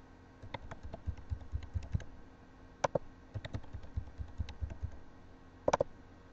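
Keystrokes on a computer keyboard while a username and password are entered, a steady run of soft clicks in uneven bursts with a few sharper, louder taps standing out, close and alone.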